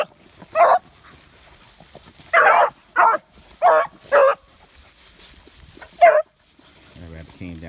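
A hunting beagle, a two-year-old female out of Pender Oaks Blackcreek breeding, gives six loud, close, separate barks in an irregular rhythm, with a short burst of voice at the end.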